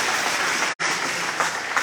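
A crowd at a political rally in Surajmani Nagar, Tripura, claps loudly and continuously, with one brief cutout partway through.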